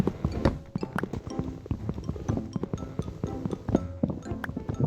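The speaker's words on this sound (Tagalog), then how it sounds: "Donkey yata yun eh." Donkey or horse hooves in the Minecraft video game, a busy run of hollow clip-clop steps, close and fairly loud, with faint clinks mixed in.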